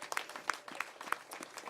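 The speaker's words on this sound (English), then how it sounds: "That deserves some applause" Scattered applause from a press conference audience for Baltimore's Safe Streets violence-mediation teams, a short patter of separate claps at moderate distance.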